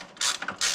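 A socket ratchet turns a suspension bolt between a tie rod and control arm, making two quick bursts of sharp clicking with a short pause between them, close and clear.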